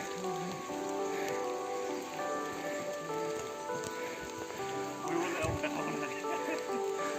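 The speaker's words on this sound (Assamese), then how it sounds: "বৰষুণ হৈ আছে ন" Steady rain falling in Dzukou Valley, a soft continuous patter on the ground and foliage heard outdoors at moderate distance, with faint voices and footsteps of hikers in the background.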